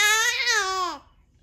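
A baby babbles in one rising and falling drawn-out vocal burst, close and fairly loud, ending abruptly into near silence.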